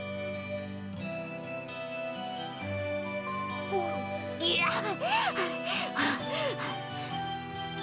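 In the visual novel Aokana, a girl pants heavily after gulping down a drink. A voice performs the breathy, uneven gasps and whimpers over soft background music, and they grow stronger in the second half.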